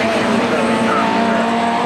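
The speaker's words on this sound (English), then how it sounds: "The Porsche 924 of Andrew Blythe from Middlesbrough" A Porsche 924 race car engine roars loudly at steady high revs at Croft circuit, with a faint tire squeal partway through and a commentator's voice under the noise.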